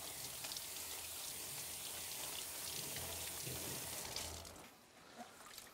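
Running water from a sink tap sprays steadily onto a paint roller sleeve being rinsed, a dense continuous hiss and patter that fades out near the end.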